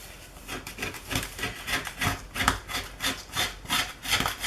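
A credit card scrapes dried, still-tacky gold flake off a surface in steady back-and-forth strokes, a close, rhythmic rasping with no talk.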